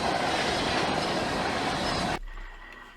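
A former CN SD70M-2 freight locomotive rolls past close by, a loud steady roar of engine and wheels on rail that cuts off abruptly, leaving quieter background.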